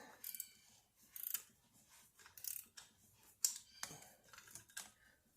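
A ratchet loosening an 8 mm bolt on a Cummins engine bracket, a string of quiet, irregular metallic clicks and ticks coming in short bursts.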